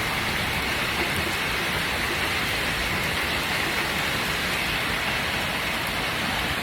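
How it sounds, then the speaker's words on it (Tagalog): Heavy rain pours steadily, a dense, constant hiss of drops hitting surfaces close by, with no voices. "Lakas ng ulan."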